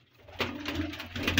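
Old high-flyer breeder pigeons coo in soft, low, rhythmic pulses, close and steady, with several overlapping calls building after a brief quiet start.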